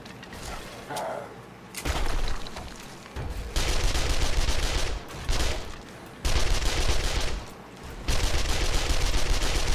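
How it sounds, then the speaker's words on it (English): SMG fire in 7 Days to Die rattles out in several sustained automatic bursts, loud and near, separated by short pauses. "Man, this SMG is awesome."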